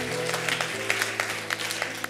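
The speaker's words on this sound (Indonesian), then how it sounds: "Tepuk tangan buat Allah kita" Congregation applause at a Sunday afternoon church worship service, a dense steady clapping under sustained organ or keyboard tones, with several sharper claps standing out throughout.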